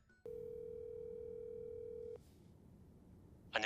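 A steady telephone dial tone hums for about two seconds, then cuts off, leaving faint background noise and a brief sound at the end.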